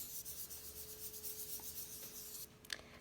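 A finger rubbing chalk across a pet portrait drawing, a soft, steady, close scuffing that runs for a few seconds and then fades out with a couple of faint taps.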